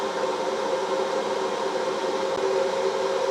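A flat induction heater runs under power at around 15 amps and 2.5 kilowatts on aluminium cookware, giving a steady, even electrical hum with a faint whine and no pauses.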